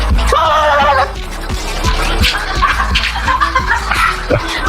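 A man imitates a dog with a rapid series of short, loud barking yelps, about a dozen in quick rhythm, near the microphone.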